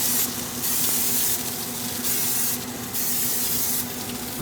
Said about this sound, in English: And a little bit of cooking spray.